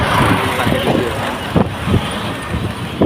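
Steady engine rumble and road noise from inside a moving bus, a continuous low drone with occasional small bumps and rattles.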